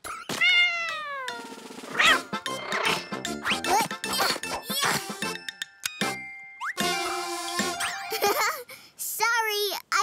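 Cartoon cat character meows repeatedly in bright, bending cries amid chimes and playful sound effects, with a voiced meowing imitation mixed with spoken lines.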